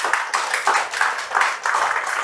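Church congregation clapping in bursts, several rhythmic waves of hand claps rising and falling at moderate volume, with faint voices mixed in.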